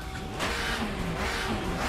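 A Mitsubishi Lancer Evolution in a drift video game mod revs its engine with a loud, steady, buzzing drone that holds close and continuous throughout, with no talk.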